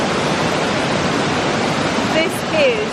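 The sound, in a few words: waterfall in a gorge in Bavaria, Germany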